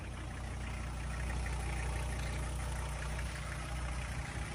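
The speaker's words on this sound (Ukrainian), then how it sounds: "мотор співає, шепче" A 2003 Volkswagen T4 2.5 TDI Syncro diesel van engine idles steadily, a low, even rumble with a faint knocking texture and no voices.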